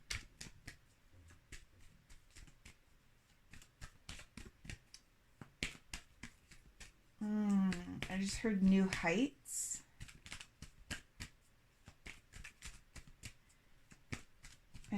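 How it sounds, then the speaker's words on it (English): A deck of tarot cards shuffled by hand in quick, repeated riffling taps, close and fairly quiet, with a brief stretch of speech in the middle. "one more shuffle"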